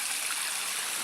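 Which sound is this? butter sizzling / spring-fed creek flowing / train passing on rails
spring-fed creek flowing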